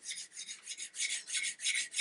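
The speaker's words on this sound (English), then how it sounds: "Scotch-Brite pad will also, not inadvertently, but it'll also be sanding your gun slightly" A Scotch-Brite pad scrubs varnish off a wooden gun stock in quick, even back-and-forth strokes, about eight raspy swipes, close and fairly quiet.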